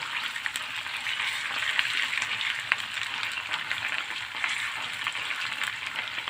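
Tomato and pepper paste sizzles in a pan with a soft, even frying hiss, dotted with small crackles and pops throughout, close but fairly quiet.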